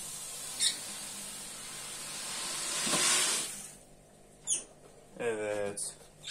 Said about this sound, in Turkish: Şu an ikinci kovayı döküyorum.